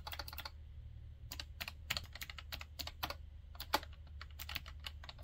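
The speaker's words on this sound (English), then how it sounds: "they have the best clicking I have ever heard a tablet have" Buttons on a Voila L pen tablet clicked repeatedly: crisp, close clicks in irregular quick runs with short pauses between them, heard alone without speech.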